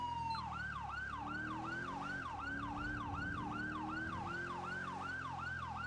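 A police car siren in the FiveM video game wails in a steady, rapid up-and-down yelp, loud and continuous throughout, over a low engine hum.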